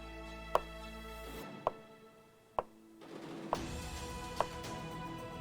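A knife slicing through avocado for a tuna poke bowl, five crisp taps against the board spaced roughly a second apart, quiet and close over a soft sustained musical tone.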